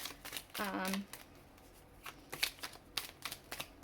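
Alice in Wonderland oracle cards are shuffled by hand in a quiet room, giving soft riffling and a run of light card taps and flicks, with a short voiced sound near the start.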